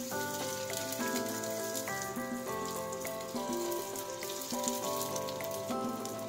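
Banana turon made with saba banana, langka and cheese fries in hot oil, giving a steady, soft sizzle that continues under background music throughout.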